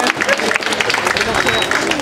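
A church parish audience at an anniversary celebration applauds steadily, a dense wash of many hands clapping at close range with faint crowd murmur underneath for two seconds.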